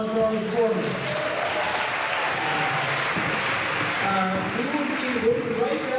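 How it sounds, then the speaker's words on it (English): Audience applause at a school spring concert, honoring the student performers; steady, dense clapping fills the hall throughout, with a few voices and faint musical tones mixed in underneath. "Round of applause for all the performers"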